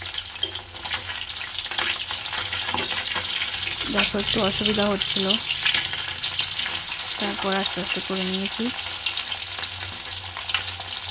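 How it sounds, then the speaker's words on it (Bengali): Parshe fish fry in a pan with a steady, broadband sizzle throughout, punctuated by utensil clinks; someone speaks briefly over the frying in two short stretches. "মাছগুলোকে হালকা করে ভেজে নেব।"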